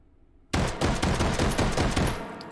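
A Luger LP08 fitted with a stock and compensator fires in the H3VR video game, a rapid string of about eight loud, sharp shots after a brief quiet moment.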